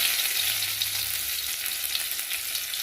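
Garlic frying in hot oil alongside whole cardamom, cinnamon and cloves, a steady dense sizzle with a faint low hum beneath, continuous and close for a few seconds with no talking.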